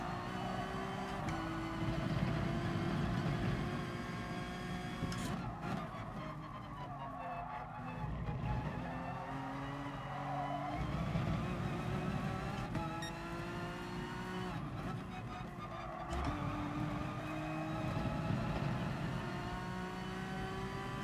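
A race car driven in GT Sport, engine droning and revving steadily with shifting pitch as it accelerates and brakes through corners, with occasional tire squeal, loud and continuous throughout.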